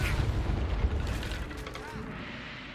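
A Confringo fire spell explodes in the video game Hogwarts Legacy, a heavy rumbling blast with a rushing, crackling tail during combat, mixed with game voices.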